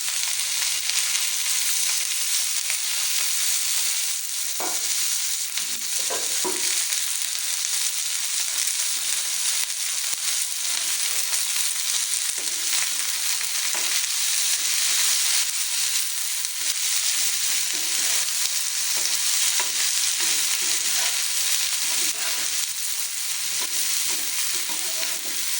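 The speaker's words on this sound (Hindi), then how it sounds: "इस तरह से अच्छी तरह से पका लेना है ताकि प्याज का अपना कच्चापन ख़त्म हो जाए" Onions and okra fry and get stirred in hot oil, a steady loud sizzle with occasional scraping clicks of the spoon, close up and with no talking.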